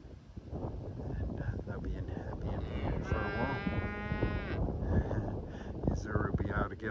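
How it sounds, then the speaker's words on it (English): Belted Galloway cattle on a farm give a loud, drawn-out moo midway through, close by, over steady outdoor wind noise and background voices talking. "the sheep and the last 2 cows, the Spelzer and Uzuri, can come and graze the laneway"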